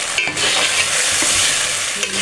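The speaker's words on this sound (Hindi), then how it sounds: "अब इसको फ्राई करना शुरू करते हैं।" Onion, tomato, ginger and garlic fry in a pan for a home-style aloo gobhi, a loud steady sizzle broken by scraping stirs, with no talking.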